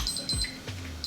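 A kitchen timer alarm rings in a kitchen during a timed cauliflower steak cooking challenge, giving a few quick repeated high electronic beeps over low kitchen rumble, with no talk.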